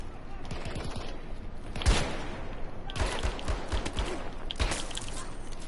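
Video game gunfire comes in several sharp volleys of rapid shots, loud and close, with quieter battlefield noise between the bursts.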